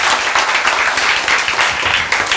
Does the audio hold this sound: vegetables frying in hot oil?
no